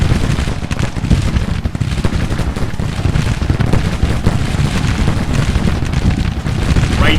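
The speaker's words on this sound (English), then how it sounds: "You could just imagine the massive amount of gunfire coming from the woods during this battle." Civil War musket volleys in the strategy game Grand Tactician, a dense, continuous crackle of massed rifle fire mixed with heavier booms, loud and unbroken for the whole stretch.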